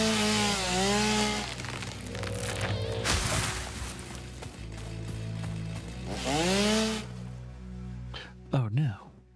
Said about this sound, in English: Well, time to get the chainsaw out.